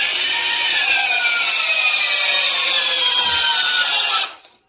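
DeWalt DCD999 cordless drill on a fully charged 6Ah FlexVolt battery, running at full power under a torque test: a loud, steady high-pitched motor whine with rising tones, holding for about four seconds before cutting off abruptly.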